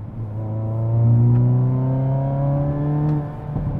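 A Hyundai N car engine in TCR drive mode with a loud exhaust revs up and holds a loud, throaty drone, pitch rising then settling before easing off near the end.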